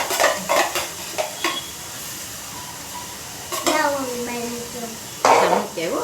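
A utensil stirs tomatoes into potato masala in a pan, with a few scraping and clinking strokes over a soft sizzle; short bursts of people talking come and go nearby.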